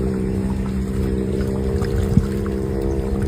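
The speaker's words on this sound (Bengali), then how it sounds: "সেই নদীর ওপারে বাইক যাচ্ছে" A motorbike on the far bank of a river makes a low, steady engine hum. It sounds faint and distant for a few seconds, with a soft knock partway through.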